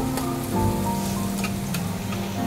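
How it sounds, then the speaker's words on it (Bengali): Garlic frying in a hot pan until it turns reddish, a steady close crackling sizzle that holds at even loudness throughout, with faint tones running underneath. "রসুনটাকে একটু লাল করে ভেজে নিব"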